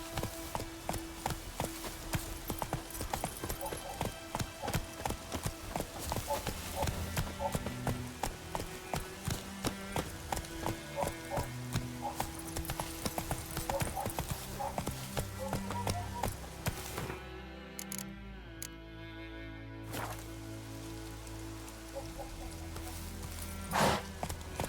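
Roach the horse clip-clopping steadily in The Witcher 3: Wild Hunt, hooves beating in a continuous quick rhythm under a busy game soundtrack, with a brief lull near the end.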